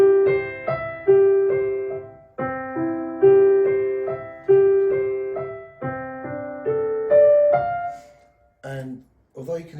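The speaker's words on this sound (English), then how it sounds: "Prelude in C by Bach, and if you play it without the pedal, it sounds like this." A piano plays Bach's Prelude in C without the sustain pedal: arpeggiated broken chords in a steady, even pattern, each note cut short with gaps between phrases. It is close and clear, and it ends with a few faint knocks.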